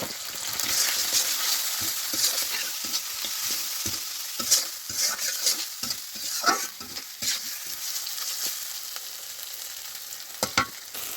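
Spice masala with turmeric and ginger fries in a pan, a continuous sizzle and hiss broken by the scrape and clatter of a spoon stirring, moderately close with no talking.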